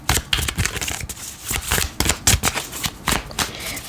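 Tarot cards being shuffled by hand during a card reading, a steady run of crisp, fluttering riffles and soft slaps that repeat densely and close up for several seconds, with no talking.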